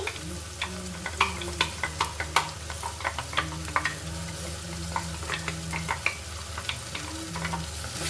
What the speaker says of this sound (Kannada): ಈರುಳ್ಳಿ ಎಲ್ಲ ಚೆನ್ನಾಗಿ ಫ್ರೈ ಆಗಿದೆ ಇವಾಗ ಶುಂಠಿ ಬೆಳ್ಳುಳ್ಳಿ ಪೇಸ್ಟ್ ಹಾಕ್ಕೊತಾ ಇದ್ದೀನಿ